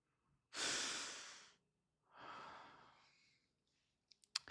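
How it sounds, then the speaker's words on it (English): Two slow, deep breaths taken during a guided meditation, a long noisy inhale followed by a softer, drawn-out exhale, close and quiet, with a few faint clicks at the end. "Take a breath."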